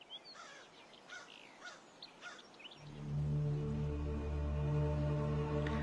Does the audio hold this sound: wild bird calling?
yes